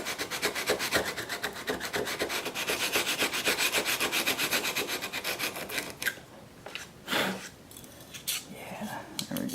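A sanding block rubs back and forth over a model aircraft part during a Skymaster Avanti XXL build, giving steady rhythmic rasping strokes that stop partway, followed by a few scattered handling scrapes.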